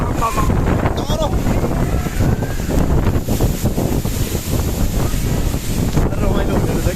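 Jalbire waterfall in Chitwan rushes in a loud, steady broadband roar, with wind buffeting the microphone throughout.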